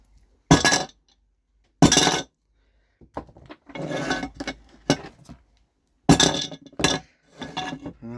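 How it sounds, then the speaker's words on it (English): A toffee hammer strikes a carbon fibre bike frame in separate sharp hits, some clinking and ringing, with pauses and softer handling noises between them. "give it a smack with a toffee hammer"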